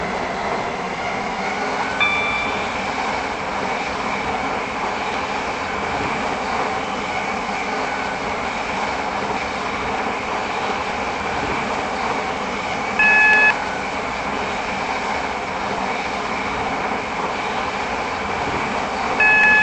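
A passenger train runs in Roblox Stepford County Railway on the Terminals Shuttle airport route, giving a steady, even rumble throughout with brief chime-like beeps in the middle and again at the end.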